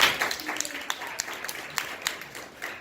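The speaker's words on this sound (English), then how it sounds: "Let's give him a round of applause." An audience at a business presentation claps in a steady patter of many hands, moderately loud and close, tapering slightly over its short span.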